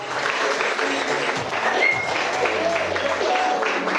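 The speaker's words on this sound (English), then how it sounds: "Ladies and gentlemen, a round of applause for Ijeoma." Audience applause for Ijeoma at a wedding celebration, a steady, fairly loud clapping from a gathered crowd lasting four seconds, with faint voices and cheers mixed in.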